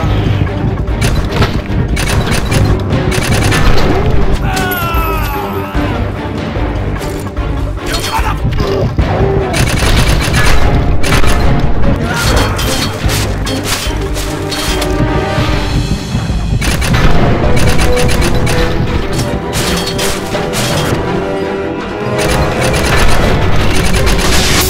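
Heavy, continuous gunfire in the shooter game Wanted: Weapons of Fate, loud rattling shots mixed with crashes, shattering debris and booms throughout, with occasional voices.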